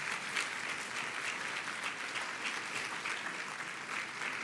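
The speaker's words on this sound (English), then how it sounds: "Let's give a round of applause." Steady, dense clapping from the audience at the Pat Brown Institute's 35th annual dinner, continuing evenly without a break for several seconds in a large room.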